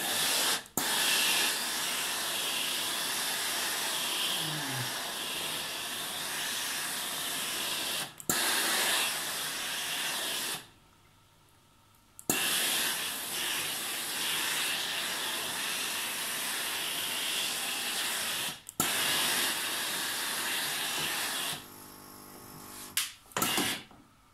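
A clothes iron set up for delicate fabrics releases long bursts of loud, steady steam hiss, broken by a few short pauses and one quiet gap, with no talking.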